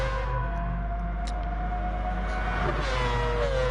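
A Mazda race car in Gran Turismo Sport, a Group 3 race in France, drones with a steady high engine tone that rises in pitch toward the end over a constant low hum.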